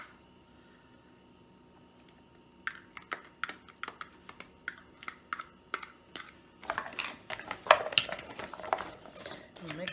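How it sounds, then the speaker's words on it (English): A utensil tosses cut carrots with olive oil and garlic in a bowl. Light, irregular clicks and clacks start sparse, then grow quicker and busier toward the end, heard up close. "Mix that up really well."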